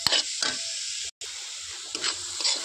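A red coconut laddu mixture, coloured with beetroot, is stirred in a pan, giving a steady close sizzle and scraping hiss with a few louder spoon strokes and a brief gap partway through.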